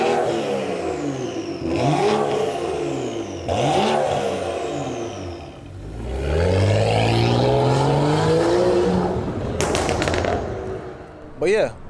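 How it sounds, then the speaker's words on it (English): A 2011 BMW 335i with the N55 engine and a burble-tuned exhaust set to mild revs repeatedly, with deep rising and falling engine notes, crackling pops and sharp bangs, loud and near. "I have the Burble Tune set on mild right now"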